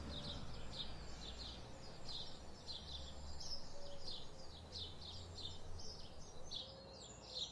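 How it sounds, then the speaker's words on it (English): Birds sing outdoors among green treetops with a steady run of bright chirps and trills, fairly faint against a soft, constant background hush. "listening to the sounds of the birds and the"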